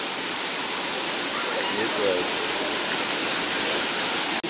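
Broadband roar of a waterfall at a tourist site near Fort Portal, steady and loud throughout, with a voice speaking briefly over it.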